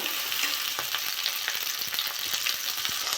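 Salted, turmeric-coated prawns frying in a pan with onion, dried chilli and five-spice, a loud, continuous close sizzle with light crackles and spoon taps, no voice.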